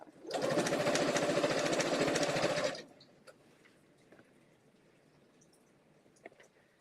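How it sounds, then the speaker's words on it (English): A sewing machine stitches fabric in one steady, loud, fast-running burst of about two and a half seconds, then stops, leaving a quiet room with a few faint clicks. "Now we're gonna sew."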